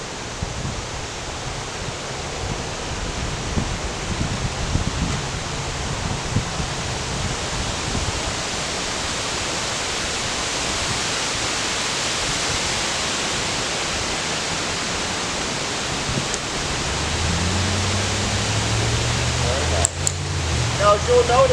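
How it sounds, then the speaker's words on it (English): Steady broadband wind rushes outdoors with rustling branches, a continuous loud hiss throughout and a brief low rumble near the end. "there are a lot of distractions with the wind, the branches coming down"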